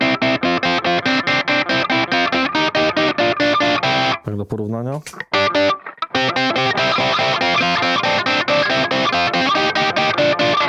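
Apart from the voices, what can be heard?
electric guitar rhythm distortion preset without booster, Fractal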